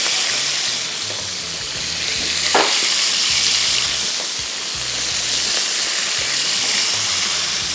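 Beef steak slices fry in a pan with a dense, continuous sizzle and crackle, steady and close, with one sharp clink of a utensil partway through.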